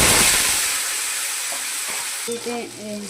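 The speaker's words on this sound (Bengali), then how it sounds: "তেলটাও গরম হয়ে গেছে। আর ফোড়নে দিয়ে দিচ্ছি এই দেখুন তেজপাতা আর গোটা জিরে।" Bay leaves, whole cumin and potatoes fry in hot oil, giving a loud, steady sizzle and crackle heard up close. Brief stirring and scraping sounds break through near the end.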